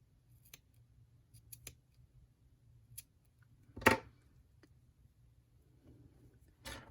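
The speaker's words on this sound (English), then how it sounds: "cut this carefully cut away my cast on" Scissors carefully snip away the provisional cast-on yarn from a piece of knitting, a few faint, crisp clicks in a quiet room followed by one louder, fuller cut and a final snip.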